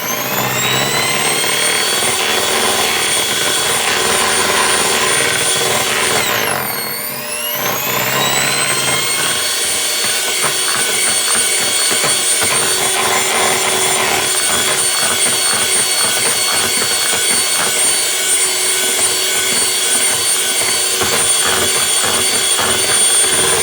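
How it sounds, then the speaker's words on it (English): A new electric kitchen mixer runs steadily while beating fudge, a loud continuous high motor whine with a brief dip in pitch midway as it strains, then resumes, no talking. "Not a fan of this new mixer that I have."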